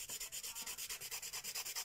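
Hand sanding a very hard foam sphere produces steady, rhythmic rasping strokes, about six per second, close and moderately loud, with no talking.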